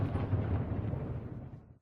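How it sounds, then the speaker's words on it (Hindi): Cannon fired from a hilltop near Raisen fort during Ramadan, a deep rumbling boom and roll of low thunder-like noise lasting under two seconds before cutting out. "रायसेन किले के पास की पहाड़ी पर काफी ऊंचाई पर लगी इस तोप की पहले गर्जना सुन लीजिए"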